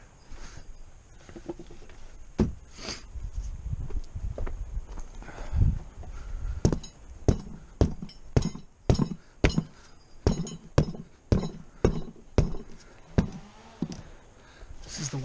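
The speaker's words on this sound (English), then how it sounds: "We're going to get our hammer." A series of sharp metallic taps as a hammer strikes a dirt bike tire, about a dozen evenly spaced strikes that grow more regular, with faint soft handling noise earlier.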